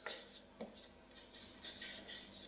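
A hand plane blade is drawn across a sharpening stone with the ruler trick to polish its back edge and strip the wire edge, giving quiet repeated rasping strokes with a few sharper scrapes and no talk.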